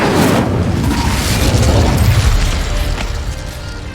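Incendio fire spell cast in Hogwarts Legacy, a loud roaring whoosh with a deep booming burst that rumbles on for several seconds before easing slightly.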